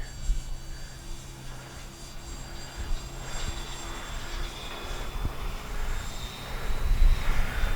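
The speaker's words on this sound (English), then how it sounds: "This is one cool flying plane." A Flightline OV-10 radio-controlled model plane flies overhead on a windy day, its twin electric motors giving a steady whine that fades and swells as it passes, with no talking.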